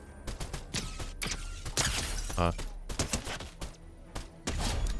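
Gunfire in a first-person shooter video game crackles in rapid, close bursts and single shots, with a short mechanical clatter midway.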